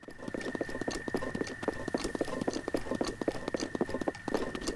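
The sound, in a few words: Link's gear rustling with each running footstep, Tears of the Kingdom video game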